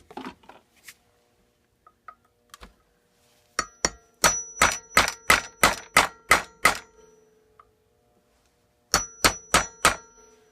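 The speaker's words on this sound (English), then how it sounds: "Might have to use my hammer here." Metal hammer blows on a punch against a 1987 Briggs engine part during a teardown: a few light taps, then a fast run of about ten loud ringing clangs, a pause, and four more strikes.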